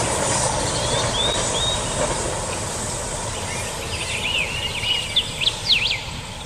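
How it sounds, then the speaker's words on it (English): Train running along the east coast line near the Montrose viaduct, a steady distant rumble heard across open estuary ground, with birds calling over it and a few sharper chirps toward the end. "A shoosh so you could hear that train running across there."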